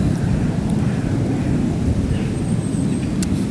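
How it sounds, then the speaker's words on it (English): A steady low rumble of aircraft engine noise roars continuously over woodland, broad and loud, with wind buffeting mixed in. "And an aeroplane going over the top."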